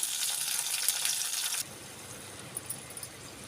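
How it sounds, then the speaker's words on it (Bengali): Tomato and onion fry lightly in oil in a pan for a Bengali katla fish curry. A bright, fizzy sizzle comes first, then drops abruptly to a quieter, softer hiss, broken by a few small clicks. "টমেটোটা দিয়েও হালকা ভাজবো"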